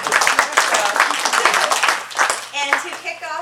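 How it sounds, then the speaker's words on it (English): A short burst of seminar audience applause, a few scattered claps mixed with ongoing talking, fairly close and brief. "a small round of applause that we are now at Institute"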